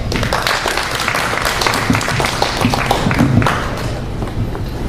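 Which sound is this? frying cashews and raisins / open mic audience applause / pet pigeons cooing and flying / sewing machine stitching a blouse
open mic audience applause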